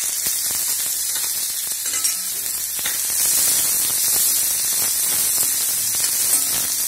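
Onion sautés in hot oil for a Marathi umbar (cluster fig) fruit bhaji, producing a loud, dense hiss of frying with scattered crackles and faint stirring knocks.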